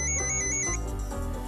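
A mobile phone rings with a melodic electronic ringtone, close and fairly loud, its tones shifting over a short stretch with no voices.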